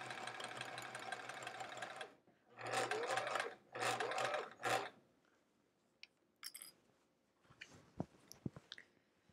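A domestic sewing machine stitches a quilt block with checkerboard borders, running in three bursts of rapid whirring and clatter separated by pauses, followed by quieter handling clicks and fabric rustles.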